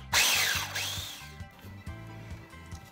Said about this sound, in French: Je vais battre mes blancs d'œufs.